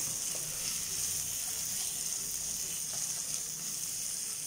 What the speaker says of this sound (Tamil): கேப்சிகம், குடமிளகாய், பீன்ஸு, இது எல்லாத்தையும் ஒன்று நல்லா வதக்கிக்கலாம்.